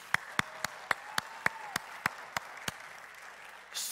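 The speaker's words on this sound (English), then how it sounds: "I'm gonna clap with you." A church congregation clapping in a slow, steady rhythm of about a dozen sharp claps, fairly faint, with a brief louder burst at the end.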